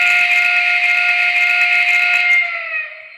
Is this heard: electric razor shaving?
no